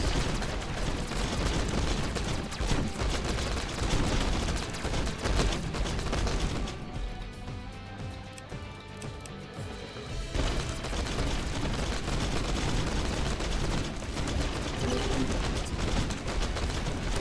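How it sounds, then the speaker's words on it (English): Autocannon turrets fire continuously in the Caelus Region of the game From Glory to Goo, a dense stream of rapid shots that briefly thins out midway before the barrage picks back up. "Auto cannon."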